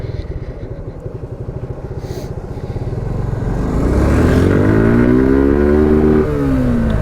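Suzuki Gixxer carburetor motorcycle accelerating hard in first gear, its engine note climbing steadily in pitch and growing louder over several seconds, close and continuous with no talk.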